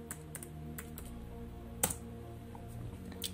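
Typing on a computer keyboard, a quiet, steady patter of close key clicks with one sharper press partway through, no talking.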